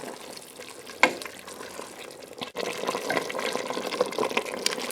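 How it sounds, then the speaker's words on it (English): Water pours steadily into a pot of Zuppa Toscana soup with a broad splashing hiss that grows fuller partway through, along with a brief clunk near the start. "So I'm going to add another cup of water to this."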